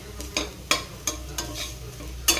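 Potatoes stir-fry in a pan, a utensil scraping and stirring in several sharp strokes over a continuous close sizzle, with no one speaking.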